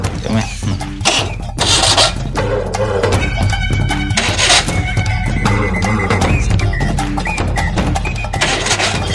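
Engine being cranked and started, loud and busy throughout with repeated churning bursts, heard alongside other noisy activity in a domestic scene.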